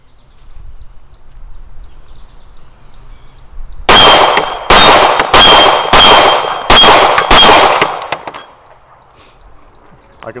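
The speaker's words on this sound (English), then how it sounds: "we're shooting 147 grain Federal, and let's see how it runs at 12 yards" Staccato XC 9mm pistol with a DeltaPoint Pro sight fired at steel targets from 12 yards with 147 grain Federal ammunition: six sharp shots, each with a ringing metallic clang, in a quick rhythmic string, loud and close.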